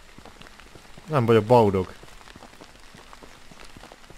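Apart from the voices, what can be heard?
rain in the video game Withstand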